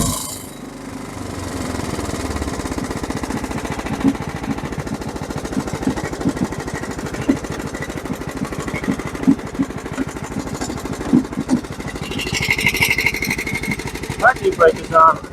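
John Deere STX38 lawn tractor with a Kohler 12.5 HP engine cranking and catching, then running with a loud, steady rapid chugging thump close by, rough at times, with voices talking near the end.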